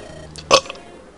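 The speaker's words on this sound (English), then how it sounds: "that burp felt like it was gonna be a lot bigger" A single short, loud burp from a player in a Fire Emblem let's play, rising and fading within a fraction of a second over a quiet background.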